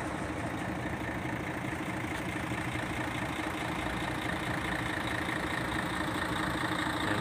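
Close by, a truck engine runs at idle with a constant, loud mechanical drone and fine rattling vibration, unchanging for several seconds without any talking.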